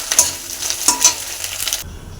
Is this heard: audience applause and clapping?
no